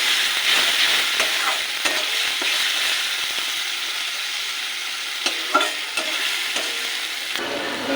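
Spice paste of onion, tomato, mustard, poppy seed and green chilli frying with salt, turmeric and chilli powder for a Bengali bhola fish curry, a steady close sizzle with scattered scraping stirs, no talking.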